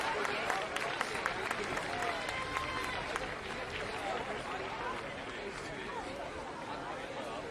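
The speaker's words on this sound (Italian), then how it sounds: "Un applauso." Applause from a crowd at an outdoor Santa Claus fun-run award ceremony in Mira near Venice, a steady wash of clapping and babble lasting throughout, with a voice speaking over it.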